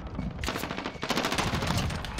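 Pistol shots in Call of Duty Warzone crack in a quick, loud string, several sharp reports close together with clattering echoes, and no talking over them.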